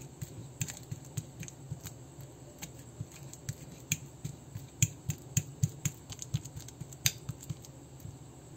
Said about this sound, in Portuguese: Aqui a gente vai pegar um garfo e vai fazer isso, pessoal. Amassar a banana bem amassadinho